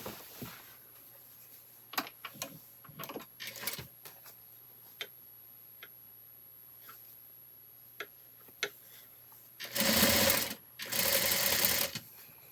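A sewing machine runs in two loud, steady bursts stitching a folded hem on a cotton shirt in a tailoring boutique, after scattered small ticks and clicks of handling the fabric.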